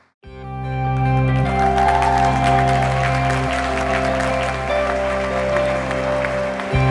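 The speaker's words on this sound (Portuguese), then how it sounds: "Você pode dar um aplauso a Ele?" Church congregation applauds steadily over sustained organ or keyboard chords, the clapping dense and continuous before the music cuts off at the end.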